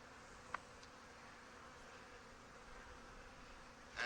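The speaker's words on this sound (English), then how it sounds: "a good population of bees up here" A low, soft hum of honey bees drones steadily from an opened hive, with a single faint click early on and a nearer buzz swelling at the very end.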